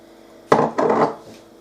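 Cake mix is scraped out of a mixing bowl, two short close scrapes in quick succession, the second slightly longer, against a quiet background with no voices.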